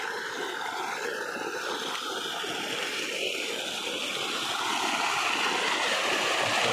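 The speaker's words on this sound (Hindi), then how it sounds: "पानी गिर रहा है खेती" Steady rushing and splashing of water pouring nonstop into a farm field, fairly close and even in loudness, with no voices.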